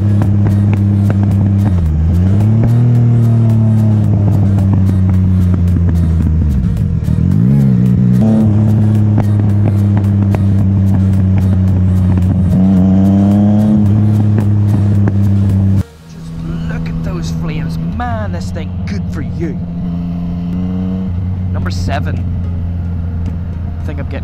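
Yamaha MT-09 Tracer (FJ-09) motorcycle exhaust, loud and close, idling with several rising and falling revs, then a sudden cut and a steadier engine note.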